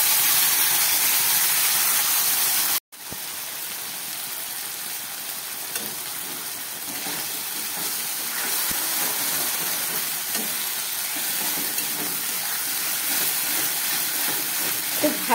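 Spice paste with cumin seeds fries loudly in hot oil for a fish curry, a dense and constant sizzling hiss that briefly cuts out, then resumes close and strong; no talking.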